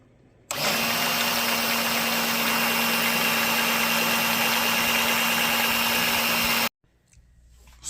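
A small battery-powered pump sucking fluid into a bottle, a loud steady electric whine with a constant hum that switches on abruptly and cuts off about six seconds later, close up with no talk.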